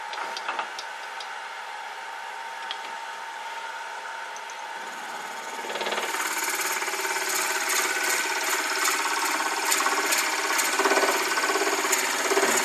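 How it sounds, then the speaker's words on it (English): A countersink bit chamfers and enlarges a hole in a turned wooden pendant, giving a steady grinding whir that grows louder and busier about halfway through and continues without pause. "Now I'm going to use a countersink to"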